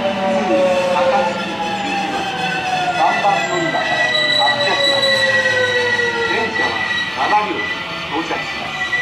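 A train rolls through JR Higashi-Yodogawa Station on the Kyoto Line with loud, high-pitched wheel squeals and rumbling rail noise, continuous and near, while a station announcement plays in the background.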